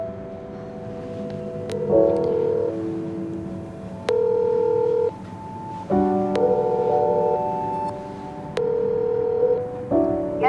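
An electronic telephone ringback tone repeats in regular bursts with short pauses between them, clear and steady, with no talking.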